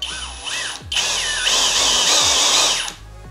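A HOTO cordless brushless drill whirs loudly and close, spinning up with a few short bursts before holding a strong steady high-pitched whine, then stopping.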